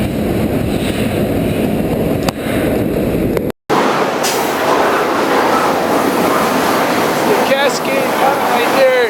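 A freight train rolling through the tall Cascade mountains, heard up close from aboard as a loud, steady rumble with rattling clatter, a brief dropout, then high metallic wheel squeals toward the end.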